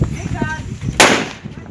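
A firecracker bursts at a São Pedro bonfire with one sharp, loud crack near the middle, following a few seconds of excited voices nearby.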